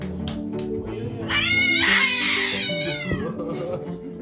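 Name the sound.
cat meowing near a crawling baby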